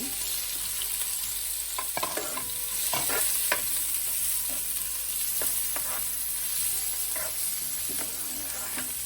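Onions, green chili, curry leaves and tomato fry for Sri Lankan kottu, a steady close sizzle broken by repeated clacking stirs and scrapes of the spatula.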